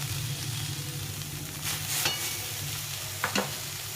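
Rice-flour chitoi pitha made with leftover rice cooking in a pan, with a constant soft sizzle and a few brief clinks and scrapes near the end.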